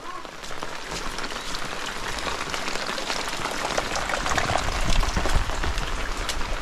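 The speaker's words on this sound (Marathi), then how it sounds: "हा जो पाऊस लागतोय ना, हा खरं तर लावणीचा पाऊस आहे" Dense, steady monsoon rain pattering on surfaces nearby in Devrukh, Sangameshwar, a continuous hiss that swells slightly toward the end, with no one speaking.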